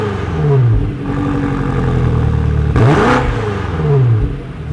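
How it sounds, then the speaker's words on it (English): A 2023 BMW X5M Competition's 617 hp engine revs up and down several times, roaring loudly close by with a sharp throttle blip midway and no talking. "and then we'll also do some revs"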